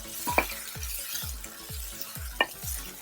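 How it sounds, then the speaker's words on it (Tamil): Two tomatoes sauté in a pan for Chettinad mutton kulambu, with a steady soft sizzle broken by repeated rhythmic spatula strokes scraping and stirring, plus a couple of brief metallic clinks. "இப்போ அதே டைம்ல ஒரு 2 தக்காளி வதக்கிடலாம்."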